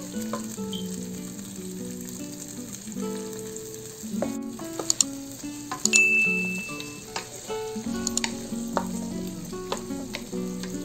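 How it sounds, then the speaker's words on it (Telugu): Spring onions and whole green chillies fry in a pan of oil for a vegetable pulao, a steady close sizzle with occasional stirring scrapes and light clinks of a utensil against the pan, with no talking. "ఆనియన్స్ మనకి కొద్దిగా ఫ్రై అవ్వాలి చూసారు కదా ఆనియన్స్ బాగా ఫ్రై అయిపోయాయి"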